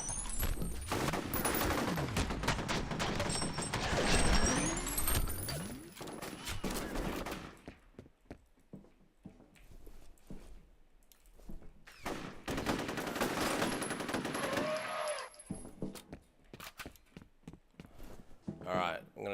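Rapid bursts of video game gunfire crackle and rattle in dense volleys, heaviest at the start and again later, with quieter gaps between and someone talking over parts of it.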